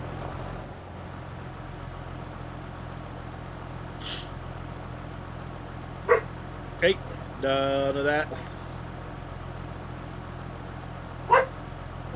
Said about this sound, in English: The neighbor dog is barking.